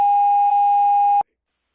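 A single long, loud voicemail beep holds a steady electronic tone for about a second, then cuts off abruptly into silence.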